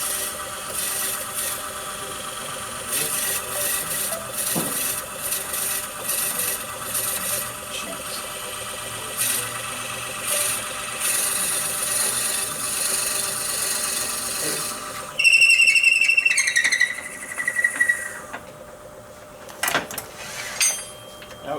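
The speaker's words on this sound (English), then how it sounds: "now I want to come up and drill out the center" A wooden spike star ornament has its center drilled out, a steady close grinding whir running for about fifteen seconds before stopping, followed by a few brief scraping and clicking sounds.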